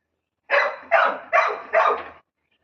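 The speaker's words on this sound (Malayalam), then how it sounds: "ബൗ ബൗ പട്ടി" Four quick barks in a steady rhythm, close and fairly loud, followed by silence.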